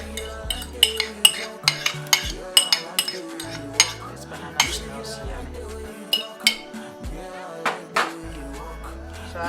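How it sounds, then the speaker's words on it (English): Banana bread batter with mashed banana being mixed in a bowl: a steady run of sharp utensil clinks and scrapes against the bowl, close and fairly loud, with music playing underneath. "I'm going to mix it up."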